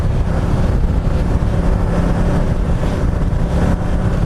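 A Ducati Multistrada 1200S motorcycle engine drones steadily while riding, a low, even hum mixed with heavy wind buffeting across the microphone.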